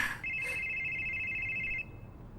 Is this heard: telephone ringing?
yes